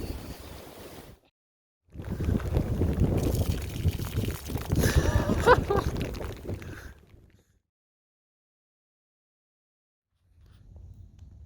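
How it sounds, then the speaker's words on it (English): Strong crosswind and large breaking waves on the Mississippi River during a canoe camping trip in stormy weather, a loud rushing roar of wind and surf that swells for several seconds and then drops away to near silence. "Wind changes completely. Massive crosswind. Huge breaking waves."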